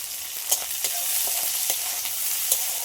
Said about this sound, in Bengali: পেঁয়াজটা আগে একটু হালকা করে নেড়ে চেড়ে নেবো।